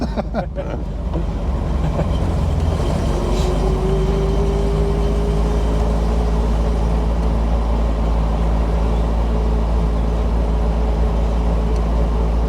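A 1981 Triumph TR7 Convertible's engine drones steadily from inside the moving car, a loud, continuous low rumble with road and wind noise throughout.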